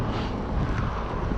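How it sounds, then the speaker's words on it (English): Strong wind buffets an outdoor microphone during mountain bike wheelie practice on flat ground, a loud continuous low roar that fills the whole moment with no speech. "It's very windy right now"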